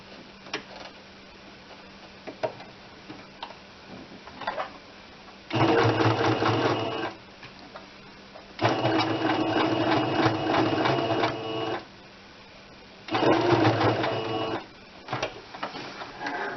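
A sewing machine stitches the back seam of a small 9-inch doll's dress in three loud, steady bursts, the longest about three seconds, with quieter handling and faint ticks between runs.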